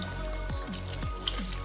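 Canned corn pours into a pot of green chili chicken soup, making several wet, soft plops and glugs over a steady background hum.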